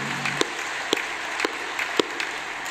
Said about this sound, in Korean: 우리 그분들 격려 박수 한번 할까요?